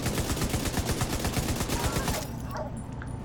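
Gunfire in the shooter Division 2, rapid, loud bursts of shots hammering close by in a steady rhythm, then cutting off abruptly and leaving quieter game ambience.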